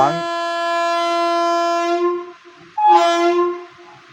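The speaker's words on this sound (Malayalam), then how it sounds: "അപ്പുറത്തായിട്ടൊരു ട്രെയിൻ ഹോൺ അടിച്ചു." A train horn blares close by in two blasts: a long, loud, steady tone, a brief gap, then a shorter second blast.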